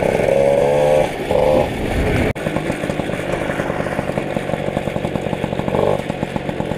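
A small motorbike with a changed rear sprocket launches on a rolling, roughly straight road, its engine revving hard and buzzing through rising gears, loud and close.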